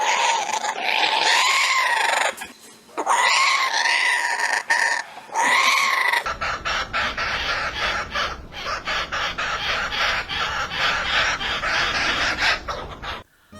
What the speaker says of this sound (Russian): Песня кукабары служит для обозначения своей территории и ярко проявляется в брачный период.